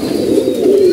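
A female pigeon with a round-patterned plumage coos in a short, steady, low murmur, close by, with no voices over it.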